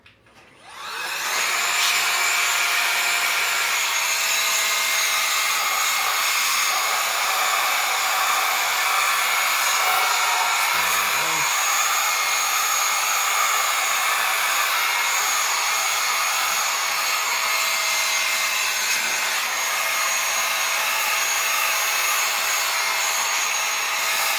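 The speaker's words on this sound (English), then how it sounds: "So that's where we'll get the blower and do it on there." A blower blasts dust out of a computer case, a loud, steady, high-pitched rushing whoosh that starts abruptly and runs continuously for more than twenty seconds.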